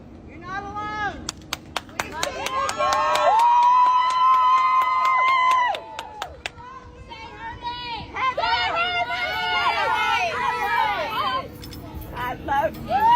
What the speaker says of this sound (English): As she stepped out, relieved and knowing her social media accounts had been restored, the crowd erupted in cheers.